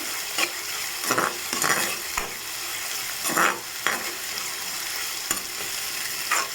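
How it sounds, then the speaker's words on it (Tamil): Onions sautéing with popped mustard seeds in a pan for a Tamil okra stir-fry, a steady soft sizzle broken by several scraping stirs of a spatula, close and alone without talk. "வெங்காயத்தை சேர்த்து நல்லா வதக்கிக்கலாம்"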